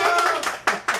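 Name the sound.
audience applause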